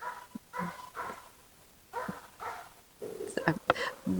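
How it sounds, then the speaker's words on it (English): A dog barks in short, sharp yips, several separate barks spaced out over a few seconds, faint and at moderate distance. "Dog started barking and it sounded like it was coming from behind me"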